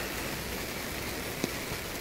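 Steady rain falls in the hot-spring town of Kusatsu, Gunma, in Japan, a constant even hiss of drops hitting surfaces with one brief louder patter partway through and no voices.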